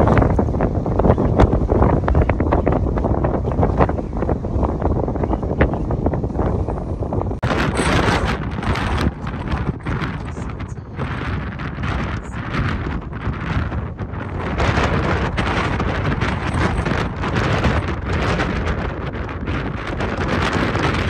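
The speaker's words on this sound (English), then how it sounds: "we went to the beach and it was so windy" Strong wind at a beach in Gqeberha, Eastern Cape, buffets the microphone in a constant roaring rumble, gusting louder at times, with no voices heard.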